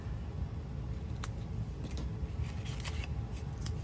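Scissors snip at the corners of a paper card kit, a run of short crisp cuts over a steady low background hum, close up with no voices.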